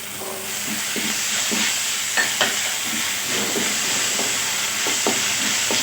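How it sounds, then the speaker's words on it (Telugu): Onions frying with ginger garlic paste for aloo samosa filling, a soft steady sizzle and hiss with intermittent scraping and tapping of a spoon against the pan, close up and without speech. "ఉల్లిపాయలు కొంచెం మగ్గిపోయాక మనం తీసుకున్న జింజర్ గార్లిక్ పేస్ట్ యాడ్ చేసుకోవాలి"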